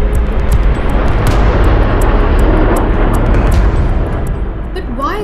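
An Il-80 Doomsday command plane flies overhead during a Victory Day flypast rehearsal in Moscow, a loud, continuous broadband jet engine roar that holds steady for several seconds with faint sounds above it.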